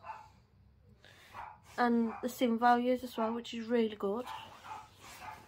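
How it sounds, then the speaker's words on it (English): A dog barks in the background of a home, short yapping bursts that sit underneath someone talking steadily close to the microphone. "Sorry if you can hear the dog barking in the background."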